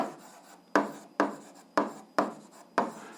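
Pen or pencil writing out an algebra solution, with about five quick scratchy strokes in a steady rhythm, each starting sharply and fading, close and fairly quiet with no talk.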